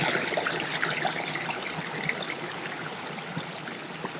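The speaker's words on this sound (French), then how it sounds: "ce ruisseau qui suit son chemin" A small stream runs steadily with a continuous close trickle and gurgle of water, even and unbroken throughout, with no voices.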